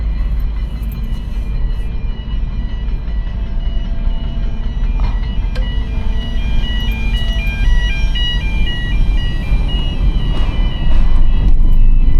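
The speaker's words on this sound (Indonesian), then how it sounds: "itu truk segede itu masuk tuh" A large truck drives onto a ferry in Norway, a steady heavy engine rumble with vehicle and deck noise throughout, loud and close, plus a faint melodic chime or beeping in the background, with no talk.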